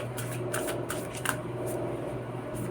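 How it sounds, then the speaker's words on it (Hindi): A tarot card deck being shuffled, a steady papery riffling and sliding with several sharper flicks, close and fairly quiet over a constant low background hum, with no talking. "अभी हम शफल कर रहे हैं."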